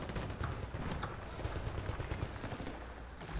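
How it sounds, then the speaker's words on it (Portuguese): Dense bursts of gunfire crackle in the video game Battlefield: Bad Company 2, with rapid machine-gun-like shots at moderate volume, somewhat distant and continuous. "Só tá vindo um monte de tiro aqui."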